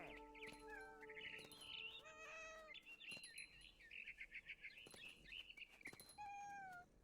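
Cat meows in the video game What Remains of Edith Finch, several high, drawn-out calls close up, mixed with chirping bird calls and game music tones.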